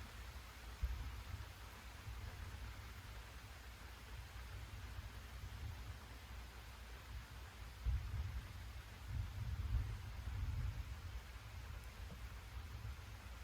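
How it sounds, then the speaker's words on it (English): Steady rain falls during an afternoon thunderstorm near a cabin, a soft continuous hiss with low rumbling swells, faint and fairly distant, with no voices. "Finally, here comes the rain."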